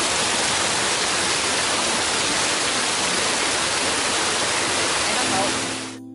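Shiraito Waterfall near Karuizawa, Japan, fed by rainfall on Mount Asama, pours in a dense, steady roar of falling water that fills the whole stretch before abruptly cutting off at the end.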